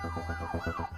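An ambulance siren wails continuously with a rising and falling electronic tone over a steady pulsing horn pattern, loud and close, alone without voices.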